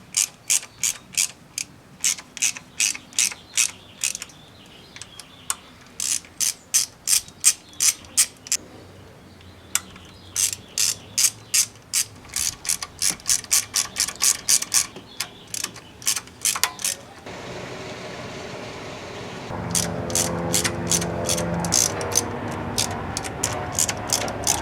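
A hand ratchet tightening camshaft chain tensioner bolts on a VW/Audi engine, in quick bursts of sharp clicking strokes with short pauses between them, close and clear, ending in a longer run of clicks over low background noise.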